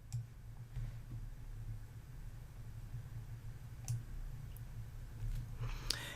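Mouse clicks on a computer while spreadsheet cells are selected in Excel, a few sharp, sparse clicks spread over a steady low hum, close and fairly quiet.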